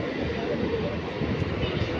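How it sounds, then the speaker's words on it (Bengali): A train slowly pulling into Bangaon Junction station makes a steady broadband rumble and rolling roar heard close by, continuous and fairly loud. "তো ঢুকে গেছে ট্রেন, অনেকটা স্লো ঢুকছে স্টেশনে"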